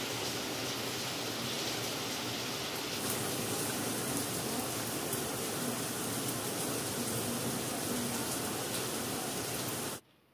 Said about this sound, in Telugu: నేను ఇదిగోండి బట్టలు తీసుకొని వచ్చేసరికి ఎంత పెద్ద వర్షమో అసలు